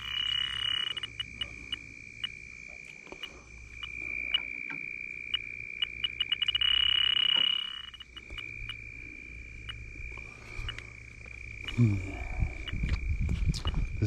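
A DR58 refrigerant leak detector sounds its alarm near a Trane unit, a steady high electronic tone with rapid beeping pulses that swell and rise for a few seconds, while a person talks faintly and handling noise rumbles near the end.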